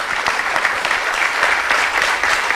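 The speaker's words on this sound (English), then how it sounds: "let's have a round of applause once again for our panelists" A conference audience at The World Ahead '23 gives the panelists of a business panel discussion a round of applause, a lively, loud burst of many hands clapping with crisp distinct claps throughout.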